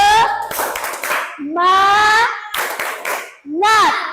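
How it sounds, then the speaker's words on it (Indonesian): A classroom of children claps a rhythmic chant in short bursts, their voices shouting in unison between the claps, loud and close. "Sekali lagi tepuk semangat"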